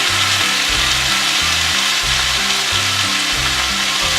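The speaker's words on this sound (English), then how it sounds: "You can almost hear when it's ready to be turned to another spot. It's going to be like less sizzle." A pot roast sears in a hot pan, giving a loud, continuous sizzle and crackle that runs unbroken throughout, with soft low thumps pulsing underneath.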